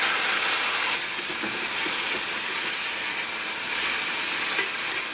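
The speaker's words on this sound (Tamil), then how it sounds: "இந்த தக்காளி கொஞ்சம் வதங்கட்டும்." Steady loud sizzling and hissing as finely chopped tomatoes sauté in a hot pan for kuzhambu, continuous throughout with no talking.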